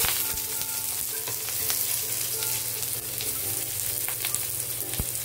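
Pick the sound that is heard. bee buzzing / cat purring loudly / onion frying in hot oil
onion frying in hot oil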